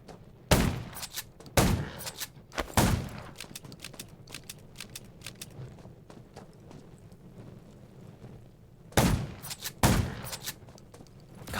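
Several sharp gunshots ring out in the video game Undawn, spaced apart in small bursts of one to three loud cracks over a quiet, breezy background, with a longer gap between the early and late volleys.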